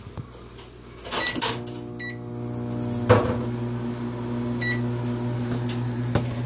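A microwave oven hums steadily with a low, even drone, broken by a few light clicks and a faint pair of beeps.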